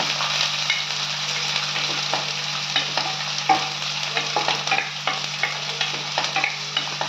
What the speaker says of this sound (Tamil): இந்த வெங்காயத்தை போட்டுக்கோங்க நல்லா வதக்குங்க